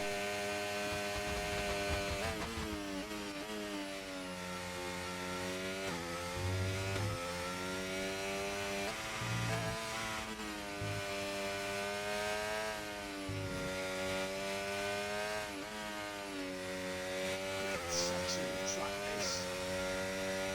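Formula 1 car engine in F1 25 at the Japan race, a steady high-revving whine with harmonic shifts as gears change, running continuously and fairly quiet throughout.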